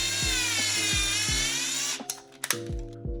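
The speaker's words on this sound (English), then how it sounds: "You're gonna need to drill a hole through the handle" Power drill fitted with a 5/16 bit boring a hole through a Neutrona Wand handle, a high whine revving up, then stopping and starting in short bursts, loud and close.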